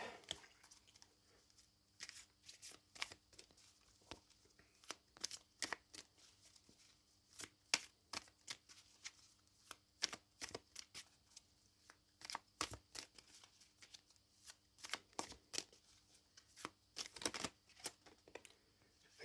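Tarot cards are shuffled and drawn by hand, giving soft, close riffling and sharp flicking snaps scattered irregularly over a quiet background, with no talking.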